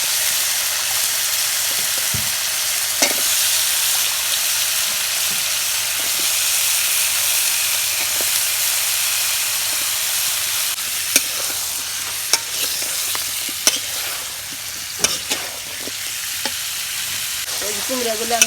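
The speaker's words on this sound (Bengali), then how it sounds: "এই যে কুমড়াগুলো আমি ভালো মতো কষাই নিই" Pumpkin pieces sautéed with spices in a pan give a loud, continuous close sizzle, with scattered scrapes and knocks of a spatula becoming more frequent toward the end.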